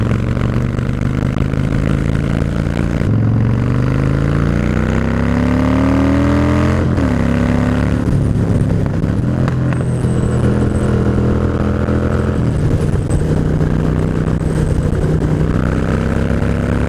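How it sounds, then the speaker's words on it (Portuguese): A Harley motorcycle engine rumbles loudly up close at a motorcycle event in Poços de Caldas, revving repeatedly with rising and falling pitch between deep idling throbs. "aqui que eu quero ver ele acelerar"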